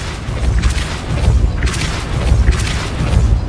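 Repeated Depulso spell blasts in the video game Hogwarts Legacy, three loud booming bursts spaced roughly a second apart over a dense, rumbling low background, with no voices.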